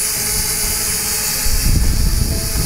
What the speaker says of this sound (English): It's up in the air there, spinning around by itself.